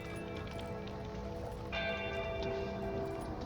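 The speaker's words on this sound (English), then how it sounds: "I heard that gong and I was really afraid it was gonna be like, dead man walking" A gong struck in PUBG gives a single resonant hit partway through, its metallic tones ringing on above steady ambient game noise.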